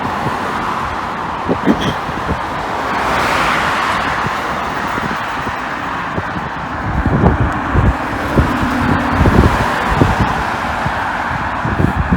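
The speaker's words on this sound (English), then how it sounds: "Oh, there's the next wave of traffic." Road traffic rolls past along Markham Road in Scarborough on an evening walk, a steady near roar with several louder passing vehicles in the second half, under wind noise at the microphone.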